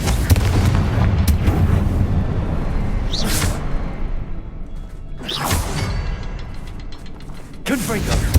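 Fiery Confringo blasts from the Hogwarts Legacy video game, booming explosions with whooshing bursts recurring several times over rumbling battle sounds, with a voice speaking between them.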